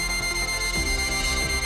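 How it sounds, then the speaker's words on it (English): Low-battery warning beeps from a Godrej Advantis digital door lock, a repeating electronic tone heard alone and fairly loud, pulsing in a quick regular rhythm. "When the battery is low, Advantis will indicate the same with a beeping sound."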